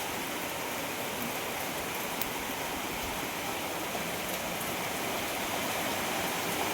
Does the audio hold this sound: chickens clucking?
no